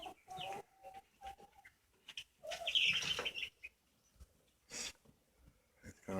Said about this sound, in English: We now have 25 Cornish rocks in here for meat birds in our little Toolbox Brooder Box.